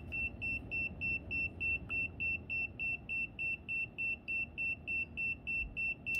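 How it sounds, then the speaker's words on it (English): An ERICKHILL electromagnetic field radiation detector gives a steady run of short, high electronic beeps, about three per second, clear and close against a quiet room. "That's weird. It's already beeping."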